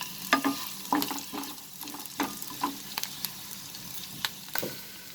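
Onions sizzle steadily in a hot pan for a chicken and cauliflower dish, a continuous close fry broken by scattered stirring clicks and scrapes, with no talk.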